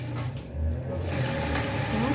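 A sewing machine runs steadily while stitching two pieces of fabric placed right sides together for a child's ruffled shorts, a close continuous mechanical hum with faint rhythmic clatter.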